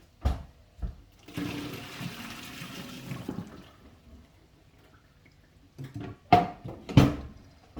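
Water is tipped out of a cooking pot into a kitchen sink, a gushing splashing pour lasting a couple of seconds, followed by quieter clunks and knocks of cookware.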